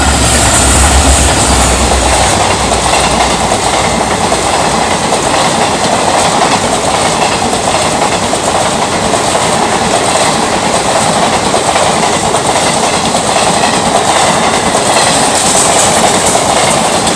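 A train runs past at Gosainganj railway station, a loud, steady roar with rhythmic clickety-clack of wheels on rails lasting throughout, close to the listener and without speech.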